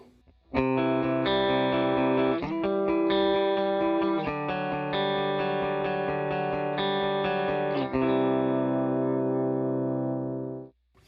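Electric guitar played through an HX Stomp in a stereo rig with no stereo reverb, sustained chords with effects and slight distortion ringing out steadily, changing every few seconds and fading at the end.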